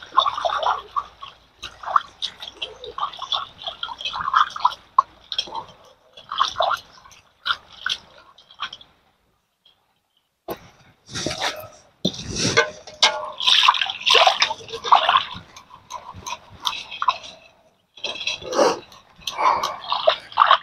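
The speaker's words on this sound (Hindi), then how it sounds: "तो कढ़ाई हम अच्छी तरह से फिर धो लेते हैं।" A kadhai (wok) is washed with water, giving irregular splashing, trickling and scrubbing sounds close by, with a short pause midway before the washing resumes.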